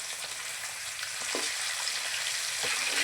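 Fish pieces fry in hot oil while being gently turned with a spoon, a steady close sizzle with a few soft scraping clinks and no voices.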